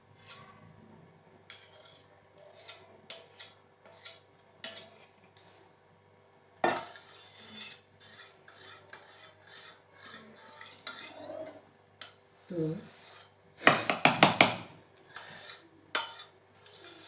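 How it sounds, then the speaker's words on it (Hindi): A spoon scrapes cream from a milk pot in repeated short metallic scrapes and clinks, spaced irregularly, with a denser burst of rattling strokes near the end, close up and with no talking. "चम्मच से ही निकाल रही हूँ।"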